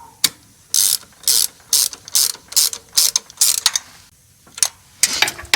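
Ratchet clicking in repeated short bursts while tightening fittings and hose connections on an A6 A/C compressor on a Cadillac 472/500 engine, about eight crisp close ratcheting runs separated by brief pauses.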